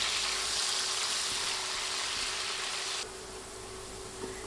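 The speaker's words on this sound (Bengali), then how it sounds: "এবার নেড়ে চেড়ে কিছুক্ষণ আলু তেলে ভেজে নিব।" Potato pieces fry in oil in a pan over a medium flame, giving a steady close sizzle that thins to a softer hiss partway through.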